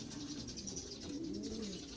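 A racing pigeon coos, low soft murmuring calls repeating close by and continuing without a break, with no one speaking.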